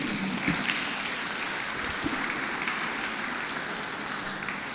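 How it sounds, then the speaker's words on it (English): A round of applause fills a Lagos Anglican diocese event, steady crowd clapping at moderate volume with scattered sharper claps, continuing evenly with no voices over it. "A round of applause once again"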